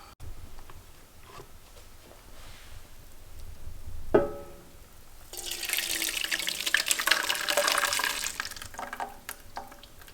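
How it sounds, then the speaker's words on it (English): Salsa poured into a cooking pot for chipotle chilaquiles, a wet splashing rush that swells after a single clunk and runs for several seconds at close range before tapering off. "So now I'm just gonna throw in the salsa in the pot."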